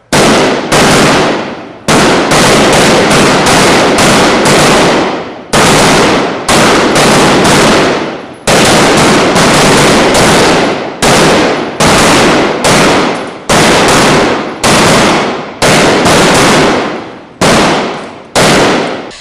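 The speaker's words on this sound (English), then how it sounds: "once again, roll fire, take your time. Well-aimed shots." Police officers firing handguns in volleys at an outdoor shooting range, loud sharp shots in rapid bursts of several rounds with brief pauses between strings, no talking.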